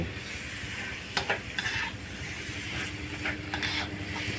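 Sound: frog meat stir-frying and sizzling in pan

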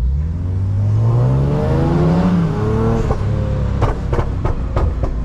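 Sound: car driving up and revving

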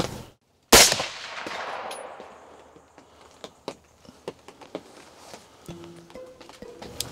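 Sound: rifle shot at a blacktail buck while hunting

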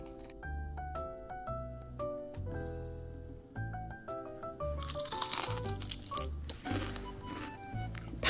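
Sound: crunching homemade crispy fried bangah flower bugak

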